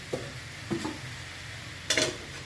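Spinach is stirred into fried vegetables in a pan, with three short, quiet scraping strokes over a faint sizzle and the last scrape the strongest.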